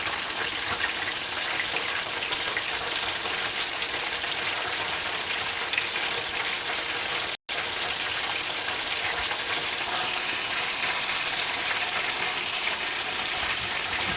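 Chicken for chicken parmesan fries in oil in a home kitchen pan, giving off a dense, steady hiss of sizzling that stays even throughout, with one momentary dropout midway and no talking.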